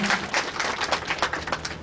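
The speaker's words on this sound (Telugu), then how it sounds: "చప్పట్లు కొట్టండి అమ్మా మీ కౌన్సిలర్ కి" An audience applauds a local councillor at a news event in Punganur, with steady dense clapping throughout that stays moderately loud and unbroken by talk.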